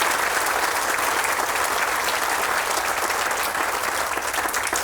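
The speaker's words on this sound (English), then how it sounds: "I want one more round of applause for the committee." Loud, sustained applause from a large audience at a Boys and Girls Club event, dense clapping that holds steady throughout with no voices breaking through.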